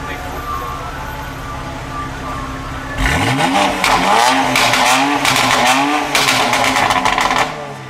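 A Porsche Turbo S supercar revs hard as it passes through New York traffic, with loud, near engine roars rising and falling in repeated bursts over ambient street noise.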